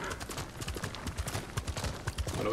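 Rapid, rhythmic hoofbeats of a galloping horse in the video game Ghost of Tsushima, close and continuous, with a rising rush of noise at the end.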